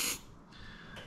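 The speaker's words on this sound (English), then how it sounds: "I'll squirt some CRC in there." CRC lubricant sprays into the machine-pressed cylinder of a Peterbilt turntable: a short, hissing squirt, followed by two fainter, briefer hisses, all quiet and close.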